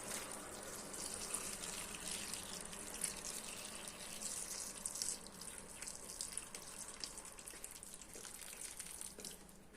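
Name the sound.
pouring boiled hot water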